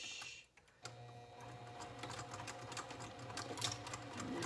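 Sewing machine stitching a drop-in lining seam with a gusset, starting after a short pause and then running in a quiet steady whir with rapid needle ticks, close and faint.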